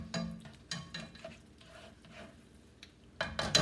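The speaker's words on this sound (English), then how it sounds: "I'm going to give that a good mix" Meat mixed with taco seasoning is stirred in a pan. A few scraping bursts of stirring stand out over a soft, steady sizzle, with quiet gaps between them and a louder burst near the end.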